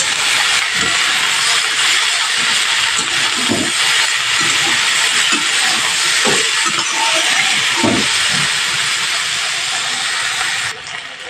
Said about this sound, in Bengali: এইভাবে গ্যাসের ফ্লেমটা মিডিয়ামে রেখে ভেজে ভেজে নিতে হবে সবজিটা